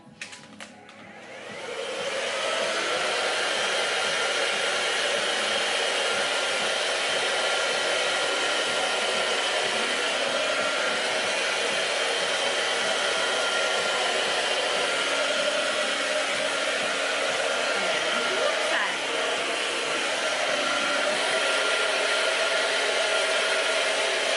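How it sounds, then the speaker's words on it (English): A hair dryer starts up and runs steadily at full power during a straight blow-dry, a loud, continuous whooshing roar with slight shifts as it moves down the hair. "I'm going to just slide the hairdryer down as I'm drying it."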